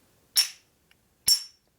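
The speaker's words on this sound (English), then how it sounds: "So you take a steel hammer, hit it right on the edge here." A steel hammer strikes the edge of an engine block twice on a 1958 Harley-Davidson Panhead 74ci engine during a top-end rebuild, giving two sharp, close metallic clanks about a second apart with quick decay.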